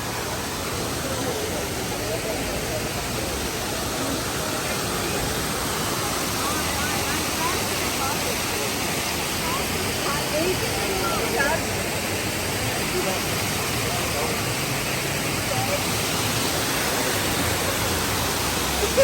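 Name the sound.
waterfall at a restaurant in Kaghan mountains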